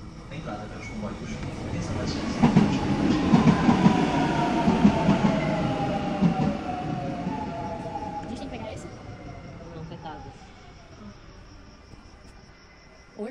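A suburban train bound for Barreiro rumbles into a station platform and slows with a long screech of wheels and a rising hiss, while people talk faintly in the background.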